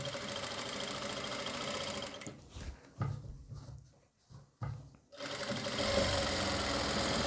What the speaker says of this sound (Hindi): मैं इस पर बिल्कुल किनारे की सिलाई लगाऊंगा ये देखिए इस तरीके से